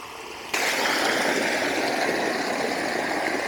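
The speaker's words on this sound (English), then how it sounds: "you can hear the water rushing from up here." Water rushing through a pipe into a pond, heard from above as a steady, fairly loud broadband roar that starts abruptly after a brief quiet moment and then continues unbroken, with no talk.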